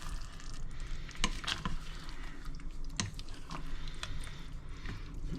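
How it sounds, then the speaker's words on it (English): A spoon stirring spaghetti sauce in a pot, producing soft wet squishing and scraping with occasional clicks against the pot, steady and close with a low simmer underneath. "we'll go ahead and stir this up"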